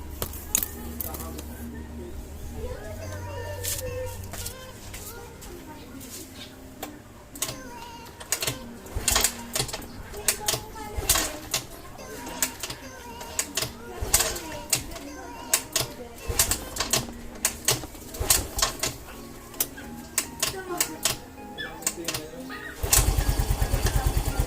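An MSI 125 motorcycle being kick-started, with repeated sharp mechanical kicks and clatter, then the small engine catching into a rough, close idle near the end; someone talks at points.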